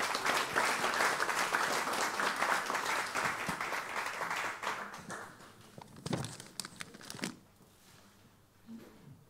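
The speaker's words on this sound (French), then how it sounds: "Est-ce qu'on peut l'applaudir?" A church congregation applauds their pastor as he is welcomed, dense clapping that gradually thins out, a few last scattered claps before the room falls quiet.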